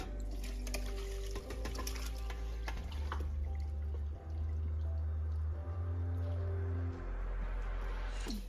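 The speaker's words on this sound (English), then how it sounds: "So strain all the solids through a colander." Braising liquid from beef ribs pours through a colander to strain out the solids, a steady close splashing and trickling of liquid with a low rumble underneath.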